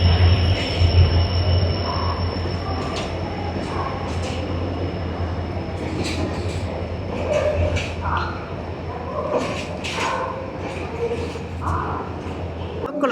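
Jaffna-bound Yal Devi passenger train arriving at a busy station, with a continuous low rail rumble and clatter under crowd chatter and scattered clanks and voices throughout.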